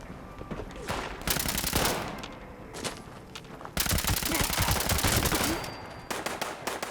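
Rapid automatic gunfire from Fallout 76 game weapons, bursts of sustained machine-gun fire broken by short pauses, loud and close throughout.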